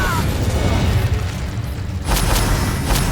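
An Incendio fire spell erupts in Hogwarts Legacy during combat, a roaring, rumbling blast under steady action noise, followed by a few sharp bright crackles near the end.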